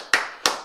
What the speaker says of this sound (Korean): 박수 안 치실래요?